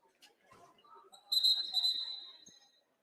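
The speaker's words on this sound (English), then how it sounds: "Whistles are being blown." A referee's whistle at a high school boys' basketball game between Madison and Elk Point-Jefferson gives a sustained shrill blast with a brief second burst, rising over faint gym murmur and a commentator's voice.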